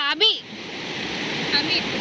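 Rushing water of Devarapalli waterfall near Visakhapatnam forms a steady broadband roar throughout, briefly overlaid by a voice at the start and a faint shrill call later.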